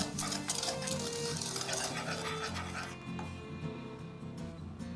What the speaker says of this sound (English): Whisk in 2 tablespoons of cocoa powder and a heaping 1/4 teaspoon of salt.